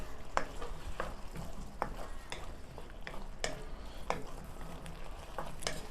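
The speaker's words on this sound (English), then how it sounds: "Give it a stir." Spoon stirring chicken and tomato sauce in a frying pan, steady scraping strokes with a few sharp clinks against the pan over a soft ongoing sizzle, close and moderately quiet.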